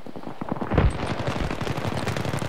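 An M16 rifle fires in Battlefield 3, rapid rattling bursts of shots in a steady, fast rhythm, close and loud throughout with no talking.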